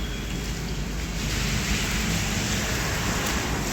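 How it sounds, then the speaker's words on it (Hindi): Steady, continuous rain hisses as a dense broadband wash with no breaks, fairly loud and unchanging throughout. "अभी भी ना बारिश बंद नहीं हुई है"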